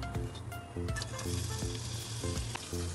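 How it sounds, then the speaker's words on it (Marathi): Onion fries in a pan for mutton biryani, a steady close sizzle with spitting crackles and repeated spatula scrapes and taps at a loose, uneven rhythm. "त्याच्यासाठी कांदा थोडासा फ्राय करते"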